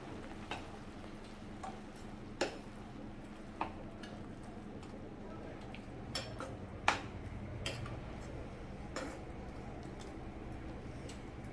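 A spoon stirs a sweet mixture of green moong, jaggery and ghee in a pot, with soft scraping under a low steady hum and a handful of light metallic clinks and taps scattered irregularly throughout.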